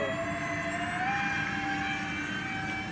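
A Supreme Hobbies model Airbus A3 airliner flies overhead with a steady, loud turbine-like whine that holds one pitch and then steps up partway through, as if the throttle is advanced, with no voices.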